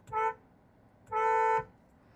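Two mild horn honks from a Kia Syros HTX petrol SUV, a short toot followed by a longer one, clear and fairly close over quiet background.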